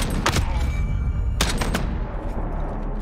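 A 12-gauge shotgun firing slugs in the Modern Warfare video game, loud close blasts in two sharp bursts over steady rumbling combat noise.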